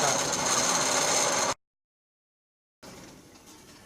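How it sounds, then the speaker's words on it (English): A knife carves a groove in wood with a steady scraping, rasping rub, close and moderately loud, broken by a sudden silent gap before quieter scraping resumes. "if you want to cut aggressively, you keep the knife pointed down just a little bit"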